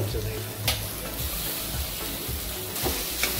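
Tomato frying with onion in a pan for a Marathi raw jackfruit curry, giving a steady low sizzle with a few soft stirring scrapes and clinks, close and moderately loud.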